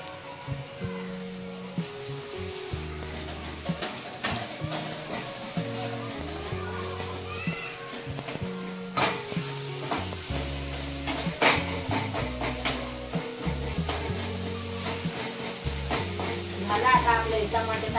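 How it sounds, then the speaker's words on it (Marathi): Tomatoes sizzle and crackle in hot oil with a steady, continuous frying hiss, partly masked by loud melodic music playing throughout. "आता आपले टमाटे टाकलेले तेलात आता फुटायला लागले"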